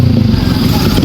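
A loud Rusi RS200 motorcycle with an Akrapovic exhaust rumbles close by at a steady high idle, its exhaust throbbing with a rough, rapid pulse.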